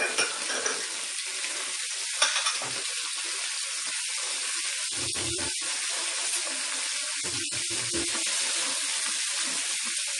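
Cashews, almonds, ginger and garlic frying in a pan for paneer kofta curry, a steady loud sizzle with crackling pops and faint stirring scrapes throughout, no voices.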